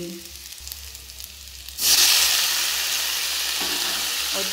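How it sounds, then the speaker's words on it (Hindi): Tomatoes tipped into a pan of cooking onions set off a sudden loud sizzle that holds steady as a continuous frying hiss, with faint stirring knocks underneath, no voices. "अब मैं इसके अंदर जो मैंने टमाटर डाले हैं वो डाल दूंगी"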